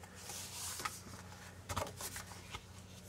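Paper is pressed and rubbed by hand while gluing a pop-up accordion into a scrapbook album page, giving quiet close rustles and soft scraping with a few sharper crinkles.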